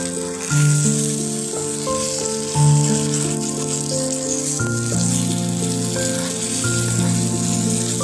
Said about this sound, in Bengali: ভাত রান্না হয়ে যাবার পরে এদিকে বেগুনটা ভেজে নিলাম